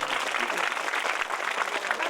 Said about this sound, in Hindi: महाराज जी की तालियां बजा दीजिए भैया दोनों हाथों